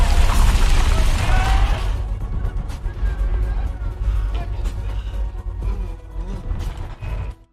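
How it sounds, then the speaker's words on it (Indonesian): A bomb explodes in an action film scene, a loud, heavy blast that roars for about two seconds, then fades into scattered rumbling and clattering debris. "Dan bom pun meledak."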